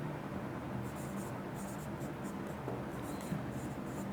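Writing on a board during a lecture gives a quiet, continuous scratching of strokes in a room, faint and low in level, with a soft voice occasionally present.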